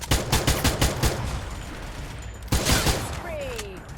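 Rapid gunfire from the mobile shooter Free Fire, with quick bursts of close, loud shots at the start and a heavy crack midway, followed by a whistling ricochet-like sweep as the shooting thins out.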